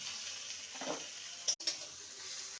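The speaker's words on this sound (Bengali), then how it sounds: "আদা কাঁচা লঙ্কা আর টমেটোকে ভালো করে কষিয়ে নিয়েছি।" Grated ginger, green chilli and chopped tomato sauté in a pan with a soft, fairly faint sizzle, a brief stirring scrape, and a short clatter partway through.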